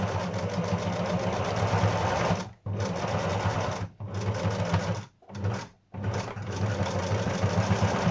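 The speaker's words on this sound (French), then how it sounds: "je vais pouvoir faire une surpiqûre ici, là, qui va fermer l'ouverture qu'il y a ici" Sewing machine topstitching to close a shirt cuff opening, running in steady mechanical bursts with several short pauses between runs; no talking.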